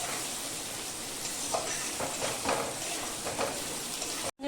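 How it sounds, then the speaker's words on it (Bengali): Potatoes fry in a pan with a steady, hissing sizzle and occasional stirring bumps, continuous and fairly close until a brief cut near the end. "আমি এই যে আলুটা ভাজি একটু।"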